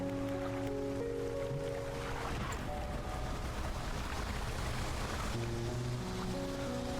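Slow fishing boat engine in the video game Dredge, a low tonal drone with steady sea wash and spray, constant and moderately loud throughout.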